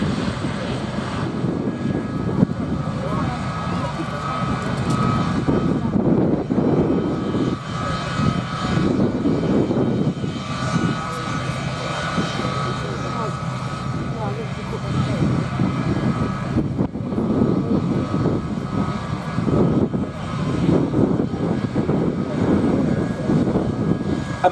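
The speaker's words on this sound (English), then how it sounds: "so little noise from the 4 Pratt & Whitney F117 turbofan engines" Boeing C-17 transport with four Pratt & Whitney F117 turbofans passing at an airshow, a broad steady roar with a low rumble that swells and fades, while a commentator talks over it.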